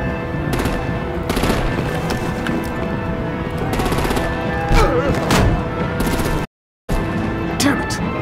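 Intense video game combat in a Batman and Harley Quinn setting: dense bursts of rapid machine-gun fire and heavy booming blasts overlapping continuously, loud and close, with a voice speaking over the battle.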